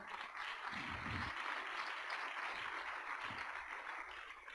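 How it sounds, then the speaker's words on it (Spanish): Church congregation applauding during a sermon, a soft, steady wash of clapping heard at a distance in the sanctuary with a few low thumps. "Alguien le da un aplauso al Señor."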